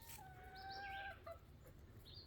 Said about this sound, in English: We've got 15 chickens.